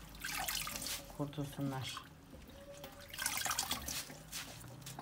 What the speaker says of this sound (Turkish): güzelce birkaç kat olmak üzere yıkayalım ki dışının tozundan